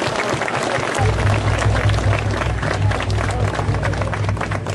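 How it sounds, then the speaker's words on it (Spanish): Crowd applause for a sponsoring company at a national long-distance running event in Puno, Peru, a loud continuous wash of clapping over a low droning hum that runs from about a second in. "Quiero pedir, por favor, un aplauso para la empresa Bacus"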